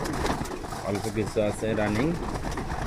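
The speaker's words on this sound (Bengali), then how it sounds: "আমার কবুতরগুলো খাবার খাচ্ছে" Pigeons kept for breeding coo repeatedly while feeding, their low throaty calls close and clear in rhythmic bursts beneath someone talking over them.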